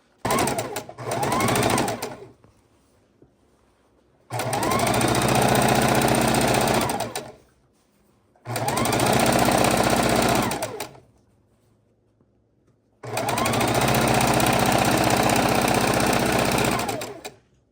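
A sewing machine stitches quilt fabric pieces in four loud, steady bursts of rapid mechanical whirring, separated by short quiet gaps.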